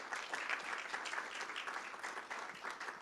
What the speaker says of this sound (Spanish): propongo un fuerte aplauso